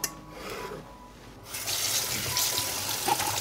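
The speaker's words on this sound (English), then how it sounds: "I cleaned the peppers and now I'm going to wash them." Peppers are rinsed under a running kitchen tap. After a quiet start the water suddenly gushes on and then streams and splashes steadily and close, with no one speaking.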